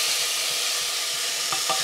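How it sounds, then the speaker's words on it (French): Onion and garlic sizzling in a hot pan, a loud, dense, continuous frying hiss close by, with a couple of faint stirring taps near the end and no voices. "on va aller déposer l'oignon et l'ail pour faire revenir"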